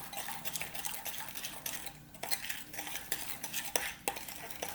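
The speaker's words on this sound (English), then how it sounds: "I'm just going to lift my bowl up so that the table isn't making a weird noise while I'm stirring" A spoon stirs sugar cookie batter in a bowl held off the table, giving steady scraping and clinking strokes with a few louder knocks against the bowl, close and alone with no talk.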